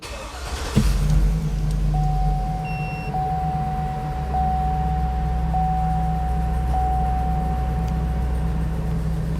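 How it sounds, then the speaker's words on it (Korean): A Hummer H2 SUT with a 6.0-litre gasoline V8 turns over and fires up, settling into a low, steady idle rumble alongside a repeating chime; no one speaks. "일단은 시동을 드디어 한번 걸어 보겠습니다"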